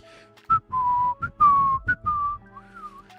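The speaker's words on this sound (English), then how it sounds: "try whistling." A person whistles a short, clear tune of several separate notes and glides, close up and alone, with brief breathy pauses between phrases.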